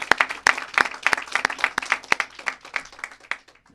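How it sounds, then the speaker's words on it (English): An audience claps at a governor's early childhood legislation signing, a moderate crowd with distinct individual claps close by, loud at first and thinning gradually toward the end. "That deserves applause."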